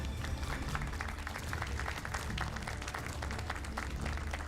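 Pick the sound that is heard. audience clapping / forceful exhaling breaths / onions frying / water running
audience clapping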